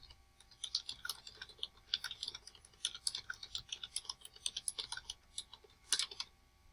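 Fingers type on a computer keyboard in a quiet room, a soft, close-up clatter of quick keystrokes in uneven bursts with short pauses between them.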